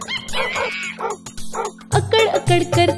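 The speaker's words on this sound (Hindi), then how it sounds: "बंदर जी के तेवर देख के जोर से कुत्ते भौंके" Dogs bark and yip in a Hindi nursery rhyme about a monkey, several short bright barks in quick succession over a steady musical drone.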